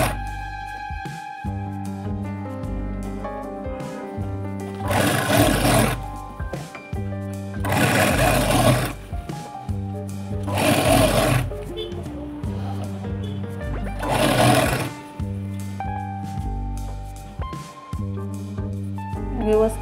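Domestic sewing machine topstitching a folded piping strip around a blouse neckline, running in four loud bursts of rapid needle clatter with a quieter motor whir and pauses between them, while someone speaks throughout.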